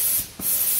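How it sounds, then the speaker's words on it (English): Pressurized nitrogen sprays in a loud, steady hiss on an RF200M drum filling machine for high-viscosity products, with the drum centered under the filling plate. The hiss dips briefly midway and then resumes at full strength. "Then you can spray the nitrogen again."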